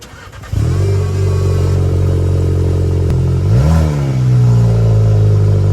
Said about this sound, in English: Now coming up are a couple clips of the car revving.